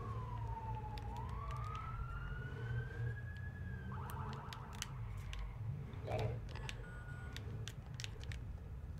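A police car siren from a video game wails and sweeps in pitch at moderate distance beneath ambient game sounds, with sharp clicks and short electronic tones scattered throughout.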